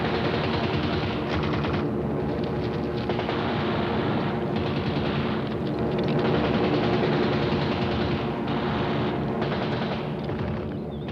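Sustained, dense automatic gunfire rattling continuously without pause, loud and unbroken throughout, depicting the World War II airborne assault on Crete.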